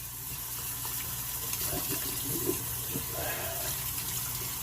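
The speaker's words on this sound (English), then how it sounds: "I'll rinse my bowl out real quick." Water runs steadily from a tap as a shaving soap bowl is rinsed, producing a soft, continuous splashing rush with small clinks and sloshes, heard fairly faintly at close range.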